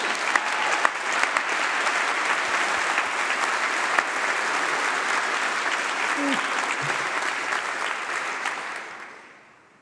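A large audience claps loudly and steadily for several seconds at a university graduation ceremony, the applause fading out at the end.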